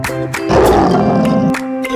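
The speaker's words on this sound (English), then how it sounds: "L is for lion roaring loud" A lion's roar in a children's phonics song swells and rumbles for about a second, set against a melodic musical backing, with a brief vocal-like cry near the end.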